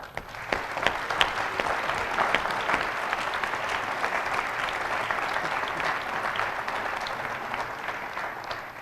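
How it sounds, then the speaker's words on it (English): A large community audience at a schools event breaks into sustained, steady applause, with dense crisp claps continuing evenly throughout and a faint murmur of the crowd underneath. "give yourself a round of applause"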